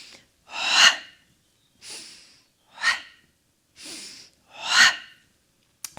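Five sharp, forceful breath bursts during pilates ab curls on a foam roller, evenly spaced about a second apart, close and alone.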